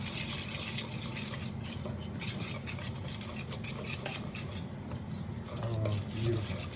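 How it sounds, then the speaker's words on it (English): A whole egg and grated fresh Parmesan being stirred together in a bowl, a steady close scraping and swishing of utensil against the dish throughout, with a faint clink near the end. "Now we're just going to give this a little mix."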